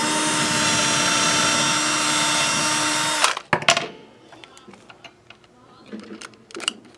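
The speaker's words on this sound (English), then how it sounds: "Drill a couple holes." A power drill bores holes into a guitar body, whining steadily and loudly for about three seconds, then cutting off, followed by a few clicks and handling knocks.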